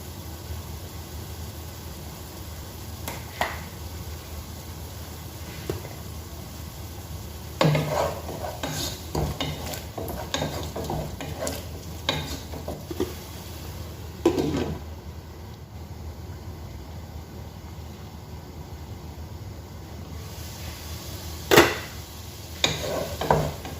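Onion and tomato frying with turmeric powder in a pan for a Mangalore-style crab curry, with intermittent stirring scrapes and clinks of a spoon against the pan over a steady low sizzle, fairly close.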